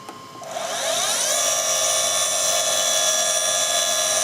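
A CNC router spindle on a crash-proof router bed starts up, its whine rising in pitch over about a second, then settling into a steady, loud, high tone that runs alone without talk.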